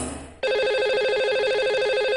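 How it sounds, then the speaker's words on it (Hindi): A telephone rings with a steady electronic warble, loud and close, starting abruptly after a brief moment of background noise on a radio call-in show. "तो लगाते हैं इन्हें अब कॉल।"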